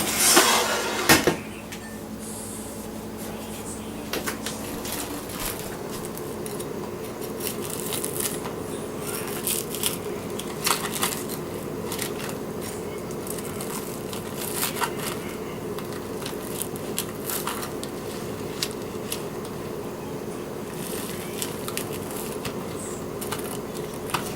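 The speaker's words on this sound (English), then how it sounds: "And now I'm going to cut it." A knife cutting through a freshly baked dish that is still hot, with scattered scraping and clicking against the pan over a soft, steady background, close and fairly quiet after an initial louder clatter.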